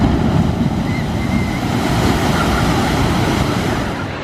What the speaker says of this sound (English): it's a big splash